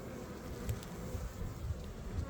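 Honey bees buzz at an open hive during a requeening check, a close, continuous droning hum with individual wingbeats swelling and fading.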